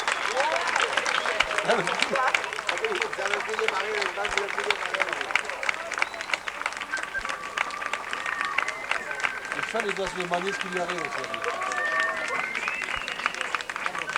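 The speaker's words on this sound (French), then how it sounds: "ne soyez pas avares de vos applaudissements" Spectators applaud at a junior international show jumping competition, a continuous wash of clapping running beneath a French-speaking announcer who talks throughout.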